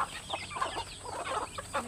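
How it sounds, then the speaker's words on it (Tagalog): Several chickens cluck in short, uneven bursts close by, soft and brief with small gaps between calls. "Kawawa naman itong mga iba kong mga manok mga inday, dapat silang pakainin."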